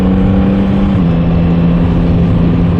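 Yamaha MT-09 motorcycle engine pulling steadily under acceleration, a loud continuous throaty drone with a low hum that dips slightly in pitch partway through, heard from the rider's position amid wind noise.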